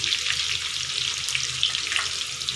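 Parboiled potatoes fry in hot oil with salt and turmeric, a close, steady sizzle dotted with small crackles and pops that continues without pause and without any talk.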